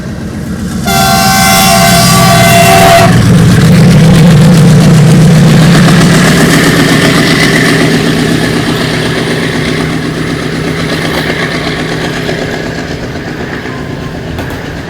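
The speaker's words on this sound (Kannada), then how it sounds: "ಸೊಲ್ಲಾಪುರ ಹೊಸಪೇಟೆ ಡೆಮುನ ಫಸ್ಟ್ ಟೈಮ್ ನಮ್ಮ ಸೆಕ್ಷನ್ ಒಳಗೆ ಓವರ್ಟೇಕ್ ನೋಡಿ ನೋಡ್ರಿ." The Hampi Express overtakes a Solapur–Hosapete DEMU near Gadag Junction, opening with a loud, sustained horn blast, then a heavy, close rumble of wheels clattering over rail joints that slowly eases off, with no talk.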